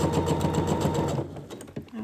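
A domestic sewing machine stitches down the bottom of a trouser pocket bag, a steady close whirring run for over a second before it stops and a few small handling clicks follow.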